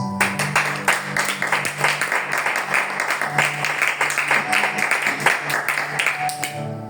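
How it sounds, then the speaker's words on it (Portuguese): A church congregation applauds, loud and close, with sharp claps in an uneven rhythm over a faint steady tone, sustained for about seven seconds. "Vamos aplaudir Jesus"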